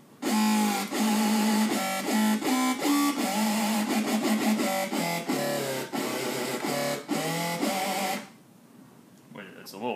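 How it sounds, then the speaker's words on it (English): A weird dubstep lead synth in the style of Space Laces, bright and harsh with rapid stuttering, pitch-shifting bursts that run loud and dense for about eight seconds before dropping away to quieter sounds. "that's pretty much the typical weird dubstep lead sound."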